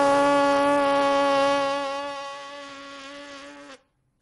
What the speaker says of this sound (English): You can get that buzzing sound.